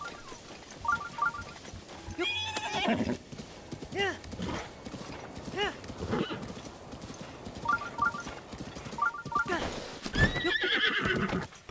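A horse in The Legend of Zelda: Breath of the Wild neighs and whinnies several times over clip-clopping hooves, with a person talking intermittently underneath.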